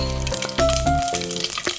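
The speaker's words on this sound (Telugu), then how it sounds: "ఇలా కుక్కర్లో నూనె వేసుకొని దీంట్లో తిరువాత గింజలు వేసుకున్నాము" Seeds sizzling in hot oil in a pressure cooker, a loud, close crackling fry with sharp pops and brief bursts of spattering over a constant hiss.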